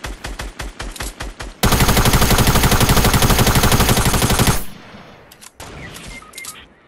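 Rapid bursts of gunfire from a video game: a few quick shots, then a long sustained automatic volley, followed by scattered pops.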